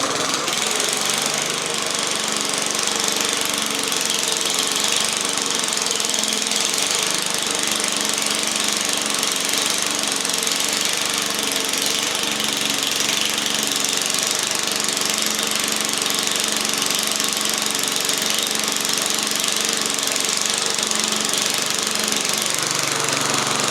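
A fogging machine fires up and heats, giving a loud, steady, rough mechanical rumble with knocking pulses that runs unbroken and close for the whole stretch.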